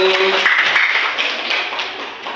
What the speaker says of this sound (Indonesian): Silakan Bagi tepuk tangan yang meriah Bapak Ibu